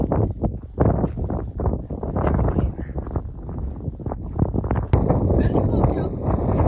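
Wind blowing outdoors in the Mongolian countryside, roaring and buffeting the microphone in heavy, continuous gusts throughout, with people talking under the noise.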